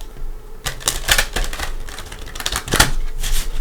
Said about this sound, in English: let's give the Tarot Dreams a couple shuffles